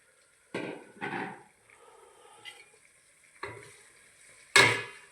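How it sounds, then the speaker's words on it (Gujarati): Undhiyu with boiled pigeon peas and surti papdi bean seeds is stirred in a cooking pot, giving several separate scraping, clattering strokes between short quiet gaps against a faint sizzle, close by. "હલાવી નાખો બધું મિક્સ આ રીતે બધું મિક્સ કરી લેવાનું"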